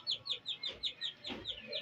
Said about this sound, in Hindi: ये सारे चूज़े माशाल्लाह स्टार्ट कर देंगे खाना